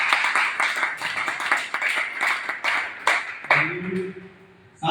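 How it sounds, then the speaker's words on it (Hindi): An audience claps at a training event. The applause is brisk and steady for about four seconds, dense and close, then stops into quieter room sound. A brief voice is heard underneath. "एक बार जोरदार ताली"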